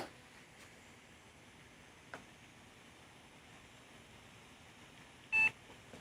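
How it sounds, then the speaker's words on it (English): A Ninja Woodfire XL Pro Connect outdoor grill gives a single short electronic beep near the end, after a few faint ticks and clicks against a quiet background hiss. "press and hold the dial for 3 seconds until we hear a beep"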